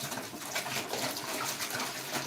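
Heinz cleaning vinegar pours steadily into a bucket, a continuous splashing gush of liquid without pause, loud and close.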